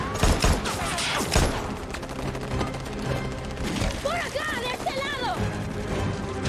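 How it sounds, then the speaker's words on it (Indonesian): A film gunfight in a heist scene, dense overlapping gunshots and rapid automatic fire with crashes throughout, mixed with shouted voices and a music score. "Mereka pun adu tembak hingga Nolan terpaksa bekerja sama dengan Bishop untuk melarikan diri."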